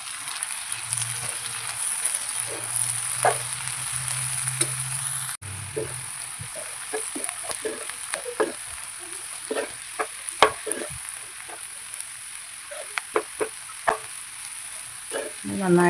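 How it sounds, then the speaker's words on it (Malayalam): A spoon scrapes and stirs Kashmiri chili powder through masala in a hot pan for paneer butter masala, a soft steady sizzle broken by sharp intermittent clicks of the utensil against the pan. "പച്ചമണം മാറുന്നത് വരെ നന്നായിട്ട് ഇളക്കി കൊടുക്കാം"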